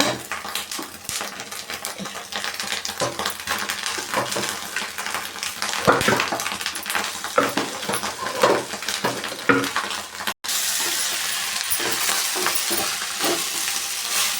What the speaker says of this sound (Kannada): ನೋಡಿ ಇದು ಫ್ರೈ ಆಗಿದೆ ಇವಾಗ ರೈಸ್ ಹಾಕೊಳ್ಳೋಣ